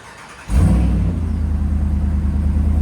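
A Ram 2500 pickup with a 6.4L HEMI V8 running a Carven TR exhaust with resonator delete and 4-inch tip fires up into a loud, deep, steady rumble that continues without pause, close to the tailpipe.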